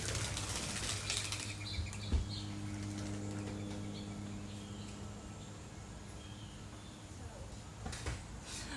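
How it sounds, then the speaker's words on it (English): Startled mourning doves burst into flight with a short flurry of flapping wings at a distance, faint under a low background hum, followed by scattered soft rustles and chirps. "A bunch of mourning doves just got real spooked back there."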